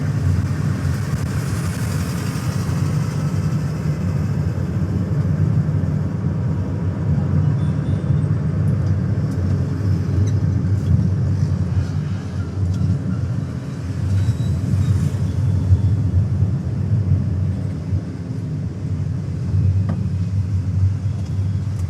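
A manual car drives through dense city traffic full of motorbikes, moving up and down through the low gears; a steady, close low engine rumble and road noise continue throughout with no pauses or talking.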